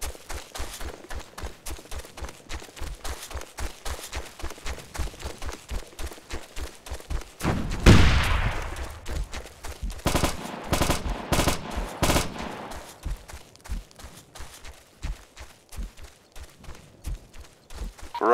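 Rifle and machine gun fire in the Operation Flashpoint: Dragon Rising military game, with steady rapid bursts of gunfire throughout, a heavy blast near the middle and a few loud close single shots right after it.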